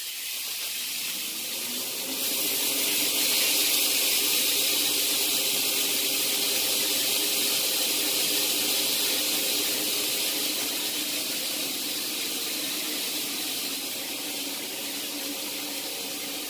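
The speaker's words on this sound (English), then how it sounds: "You want to be able to hear that sizzle." Steady, loud sizzling hiss of beef fajita strips frying in a pan on medium-high heat, swelling after a couple of seconds and holding constant with no talking.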